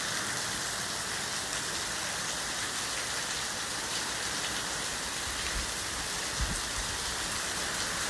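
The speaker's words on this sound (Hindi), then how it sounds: "काफ़ी तेज़ बारिश हो रही है।" Heavy rain pours steadily outdoors, a dense, even hiss of drops on surfaces that stays loud and unbroken throughout, with no voices.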